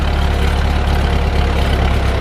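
A French Fergie Type 30 tractor engine idles close by, a loud, steady low rumble with an even throb that holds throughout.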